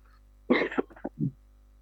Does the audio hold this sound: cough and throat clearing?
yes